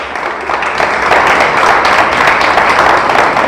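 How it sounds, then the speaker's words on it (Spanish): A church congregation applauds together for several seconds, a dense, steady wash of many hands clapping at close to moderate distance and fairly loud throughout. "¿Le damos un aplauso?"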